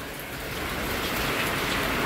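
Strong gusting wind and rain from a night storm around 2:50am form a steady, loud, dense roar with no let-up and no voices.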